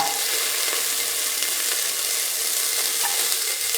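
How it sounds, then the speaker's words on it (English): Shallots frying steadily in a pan for a carrot tomato coconut milk rice, a dense continuous sizzle that holds level and close throughout with no talk. "Now put in the shallots"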